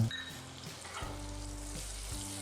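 Cumin seeds frying in hot butter for paneer butter masala, a steady close sizzle running through the whole stretch, alone with no talking.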